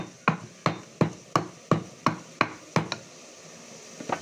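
Whole garam masala spices pounded by hand for a beef curry with potatoes and tomatoes, about ten sharp, evenly spaced thuds close by, with no talking.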